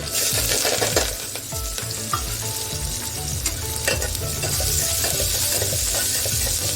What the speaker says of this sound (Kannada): ನೋಡಿ ಈಗ ಒಗ್ಗರಣೆ ಹಾಕೋಣ